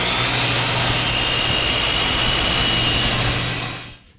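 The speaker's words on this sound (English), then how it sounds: "I don't have a slider on this saw" A power saw cutting the wooden pieces of a flag-style gun case, a loud steady broadband whine that holds for about four seconds and then cuts off and dies away at the end.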